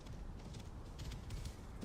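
Horse hooves clip-clopping in Assassin's Creed Origins, a soft low patter of steady hoofbeats, faint and close, with no one speaking.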